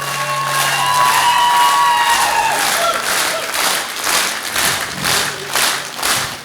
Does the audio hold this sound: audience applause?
yes